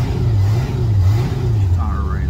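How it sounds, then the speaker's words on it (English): A Stingray cuddy cabin boat engine, recovered after Hurricane Ian and not yet warmed up, revs loudly as the throttle is cracked, its pitch rising and falling in uneven surges, with a voice audible over it. "And if you just crack the throttle like that,"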